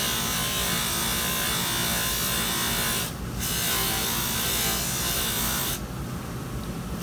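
A denture is polished with pumice on a spinning lathe wheel, giving a steady, loud abrasive whir that runs throughout, briefly dipping twice as the piece is shifted against the wheel.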